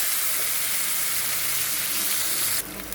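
Onions fry in hot oil in a pan with a loud, constant close sizzle and hiss that suddenly drops away near the end.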